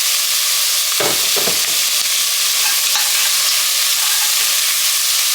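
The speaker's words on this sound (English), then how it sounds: "I'm going to add my garlic as well. Okay, mix that up." Garlic sizzling in hot oil in a pot of Texas chili as it gets stirred, a loud continuous frying hiss broken by a few spoon scrapes and knocks early on, with no talking.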